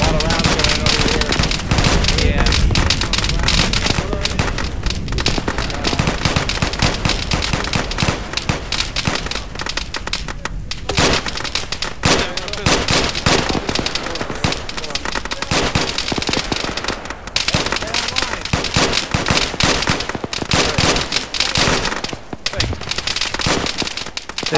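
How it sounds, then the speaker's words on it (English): Sustained gunfire in the military shooter Arma 3, dense overlapping rifle and machine-gun bursts crackling continuously for the whole stretch, loud and close with bursts of distant fire, with occasional voices underneath. "There's a lot of rounds going over here."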